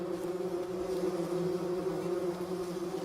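Steady, continuous buzzing of a bumblebee queen nesting in an abandoned mouse nest, a close, even drone with no pauses throughout.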